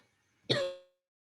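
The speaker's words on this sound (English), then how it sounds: "I'm going to just mute myself for a second so I can have a nice little cough" A single short cough from a woman, brief and fairly close, followed by silence.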